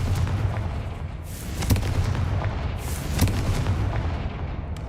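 Deep rumbling blasts from the Confringo explosive spell in Hogwarts Legacy, a couple of heavy booms rolling over a dense, continuous bed of game noise.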